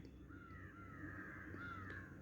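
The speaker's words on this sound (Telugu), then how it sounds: "బయట చెట్లలో కాకులు అరుస్తూ ఉన్నాయి" Crows caw from trees outdoors in a couple of long, drawn calls, somewhat distant and faint over a soft low background hum.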